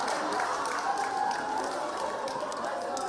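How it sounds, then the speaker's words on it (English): Spectators applaud and cheer for girls finishing a 5,000 meter race at an outdoor track and field championship in Kimbe, a steady wash of clapping and crowd noise heard at a distance, with no speech. "Can we have a big round of applause?"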